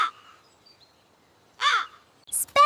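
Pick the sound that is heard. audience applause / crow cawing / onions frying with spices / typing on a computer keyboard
crow cawing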